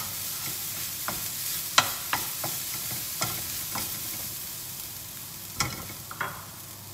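Spices and a piece of pandan leaf frying in a pan for a pumpkin curry: a soft, steady sizzle broken by scattered scrapes and knocks of stirring, close by with no voices.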